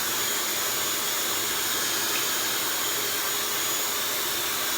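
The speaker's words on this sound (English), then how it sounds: "finish blow drying this mold out so I can bump my hair" A Dyson Supersonic hair dryer blows a steady, close, unbroken rush of air for the whole stretch, with no talking.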